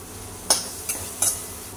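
Samosa filling with curry leaves and masala is stirred and roasted in a pan, three quick scraping strokes over a faint background sizzle, close and fairly quiet.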